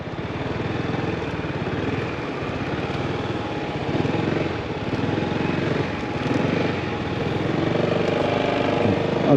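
A motorcycle ridden slowly through a cone weave during a learner's practice session, the engine held at steady throttle with slight surges while the rear brake drags, a continuous close drone with no speech.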